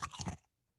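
A small piece of ice crunched between the teeth, a short burst of crisp crackling bites that stops abruptly, followed by silence and a faint brief rustle, close and quiet.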